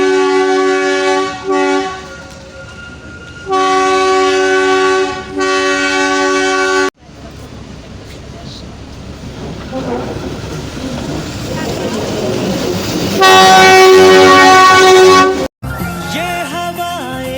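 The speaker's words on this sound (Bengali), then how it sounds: "দূরে টয় ট্রেনের শব্দ শোনা যাচ্ছিল।" A Himalayan toy train sounds several long, steady horn blasts separated by short pauses, with a rumbling, noisy stretch in between. The blasts are loud and clear rather than faint.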